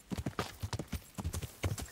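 Galloping horse hooves from Kingdom Come: Deliverance pound in a quick, irregular run of close, heavy clip-clop beats, loud and uninterrupted across the short stretch.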